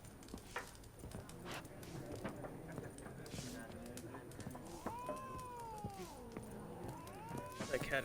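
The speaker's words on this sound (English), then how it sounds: "That cat is still angry." An angry cat in The Witcher 3 video game lets out drawn-out, rising and falling meows and yowls in the later part, over soft background game sounds and footsteps.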